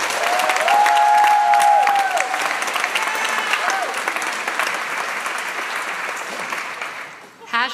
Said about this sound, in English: And just one more big round of applause for Michelle Enfield for being here with us.